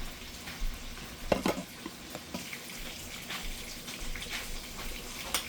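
Kielbasa sausage browning in hot oil in a pan makes a close, steady sizzle broken by occasional stirring scrapes and sputtering pops, with no one speaking.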